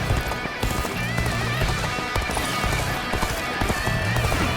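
Galloping horse hooves in Dynasty Warriors Origins beat in a rapid, continuous clip-clop rhythm beneath a dense wash of battle noise and game music, with a whinny-like cry in the mix.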